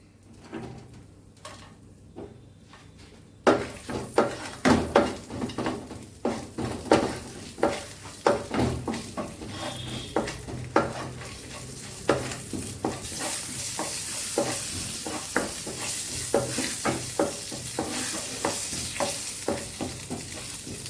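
Cardamom, cinnamon and cloves frying in oil for a tempering, a soft sizzle under repeated scraping and stirring clicks of a utensil in the pan, close and moderately loud after a quiet start.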